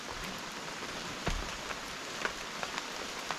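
Steady rain falls on a forest campsite, a dense even patter on leaves and surfaces with occasional heavier drops standing out, no voices.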